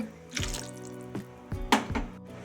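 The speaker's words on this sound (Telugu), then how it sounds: "ఇంకా కొంచెం కూడా వాటర్ వేసుకున్నాము" Water splashes and pours in several short bursts into a cooking pot of taro and dried fish curry, with drips and clinks between them, close by.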